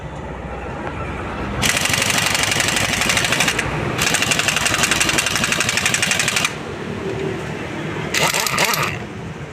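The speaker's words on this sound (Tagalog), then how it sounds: "dito po nanggagaling ang vibration ng ating makina" Sewing machine with a vibration problem running in loud bursts, a rapid mechanical clatter that starts and stops several times with short pauses between.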